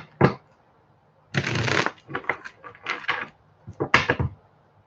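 A deck of cards is shuffled for a psychic reading, several quick riffling bursts and short clattering shuffles close to the microphone, separated by brief pauses.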